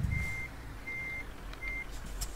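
Truck reversing alarm in the driving game Euro Truck Simulator 2, three evenly spaced steady beeps over a low engine rumble, with no talking.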